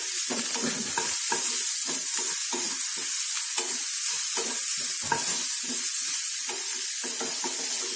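Chopped onion sautés in a pan for cauliflower fried rice, with a steady close sizzle broken up by repeated scraping stirs of a spatula throughout. No one speaks.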